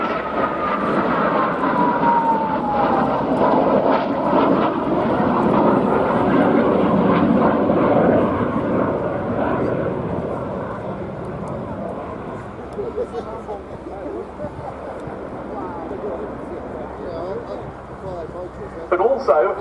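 A Eurofighter Typhoon jet roars past at an air show at RNAS Yeovilton, a loud sustained engine rush that slowly fades, with a commentator talking over it throughout.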